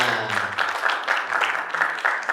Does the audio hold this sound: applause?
yes